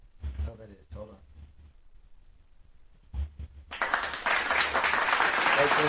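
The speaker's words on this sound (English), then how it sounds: "Applause." On a podcast, a few seconds of talking give way to a sudden burst of loud, steady applause that fills the end of the stretch.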